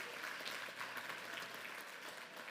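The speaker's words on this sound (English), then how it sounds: "One more round of applause." A crowd applauds with steady, dense clapping that carries on evenly throughout, moderately distant.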